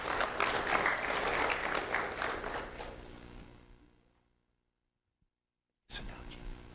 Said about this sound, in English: Let's have a round of applause for Devin Joseph.